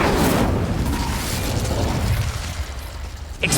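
Fire and blast spells cast in the wizarding game Hogwarts Legacy, heard as a loud, roaring burst of explosive rumble that slowly fades, followed by a sharp short pop near the end.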